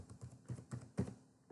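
Fingers typing on a computer keyboard, several quick soft key taps in an irregular burst, close but quiet, with no speech.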